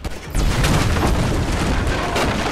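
Heavy gunfire from above in GTA V, a dense, sustained burst of loud rapid shots that rumble on without a break after a brief quieter start.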